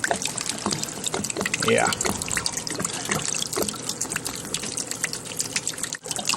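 Water gushes and trickles out of an RV water heater's drain as it is flushed, carrying chunks of hard water deposits; a steady splashing stream runs throughout while someone speaks briefly.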